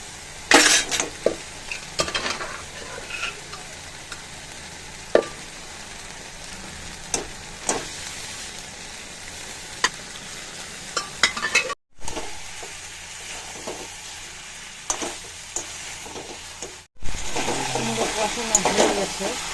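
Potatoes and spiced goat meat, seasoned with salt, cumin, ginger, garlic and chilli, fry in a pan with a steady sizzle, broken by occasional stirring scrapes and utensil clinks, with brief pauses and a louder burst near the end.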